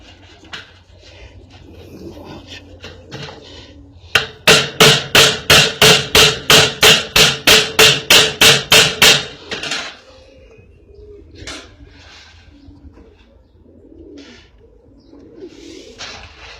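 Rapid series of about a dozen sharp hammer blows tacks mesh onto a wooden pigeon breeding box, loud and close, with pigeons cooing softly in the background before and after.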